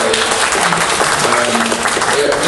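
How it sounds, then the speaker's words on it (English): A classroom audience applauds volunteer attorneys in a loud, dense burst of clapping that stays thick and constant with no gaps, close and filling the room. "So let's give them a round of applause because they're all here voluntarily."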